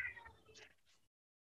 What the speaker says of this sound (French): Et vous entendez bien le chat?